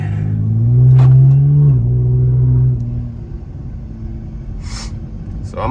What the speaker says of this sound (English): Yo, let's see how she runs.